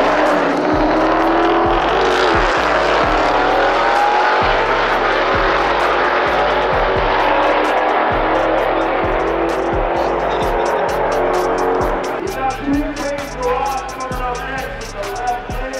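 Race cars roll racing at a track during a roll race event, loud sustained engine roar with tire noise close by, steady for most of the span before easing into a rougher, fluttering idle.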